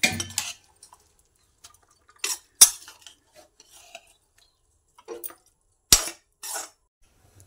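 Cooked makhana bhaji is scraped from a kadhai onto a thali, giving sharp metallic clinks and scrapes of a spoon against the pan in short separate bursts with quiet gaps, close by.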